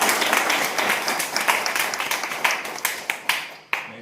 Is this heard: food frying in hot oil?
no